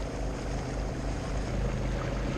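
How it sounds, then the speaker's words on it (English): A boat engine drones steadily and continuously at sea, heard from the bows as a loud, even low rumble with wind and water noise mixed in and no talking. "I'm sick of the engine noise."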